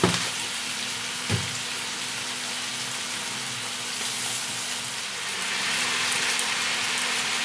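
Mixed vegetables and fried fish sizzle in a pan with turmeric and cumin, a steady close hiss and crackle throughout, with a brief clatter near the start and no voices.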